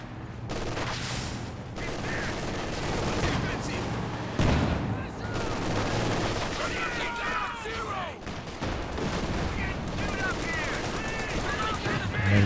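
Bursts of machine-gun fire and scattered gunshots rattle on through a Company of Heroes 2 match, with blasts and battle noise under steady excited commentary.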